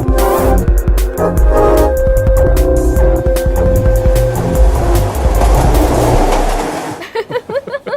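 A train rolls along with a loud rhythmic clatter and rumble, a high squeal running through the middle before the noise drops away near the end.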